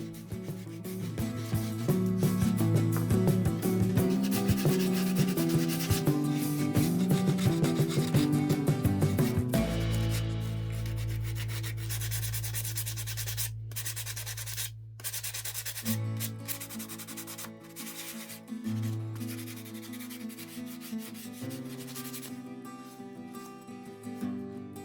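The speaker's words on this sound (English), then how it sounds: "I smoothed out the edges with sandpaper." Steady scratchy rubbing of sandpaper smoothing the edges of a dry clay bowl, continuous and close, with changes in stroke speed and pressure.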